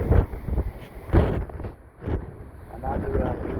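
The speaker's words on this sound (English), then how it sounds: "It's a strong wind." Strong wind in Las Vegas, Nevada, roars in uneven gusts across the microphone, swelling and easing over several seconds with a rough low rumble.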